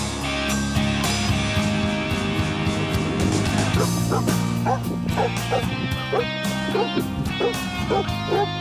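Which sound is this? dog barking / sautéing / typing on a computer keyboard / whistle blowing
dog barking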